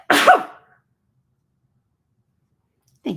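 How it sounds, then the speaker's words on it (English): A single loud, close sneeze bursts out at the start, then silence follows until a brief low sound at the very end. "I've got an itch coming in my nose and I know I'm about to sneeze."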